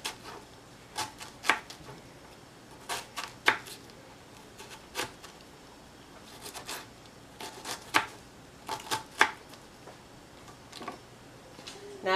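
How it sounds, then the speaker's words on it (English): A whole onion being diced with a knife on a cutting board, giving irregular sharp chops in short bursts, close and fairly quiet with no talking. "now we're going to dice the whole onion"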